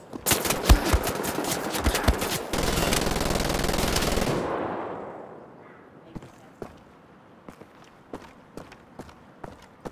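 Rapid automatic gunfire from the video game Wolfenstein: The Old Blood blazes loud and dense for about four seconds, then fades into scattered single shots and short bursts with footsteps between them.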